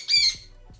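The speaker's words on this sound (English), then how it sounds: "I think it's good to show how noisy birds can be." Pet birds indoors let out one loud, sharp squawk near the start, followed by a few faint low thumps, with no talk.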